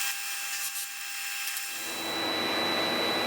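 A power drill boring into wooden organ pipe blocks for a continuo organ, a loud steady whirring whine that shifts to a rougher, fuller grinding as the bit bites into the wood.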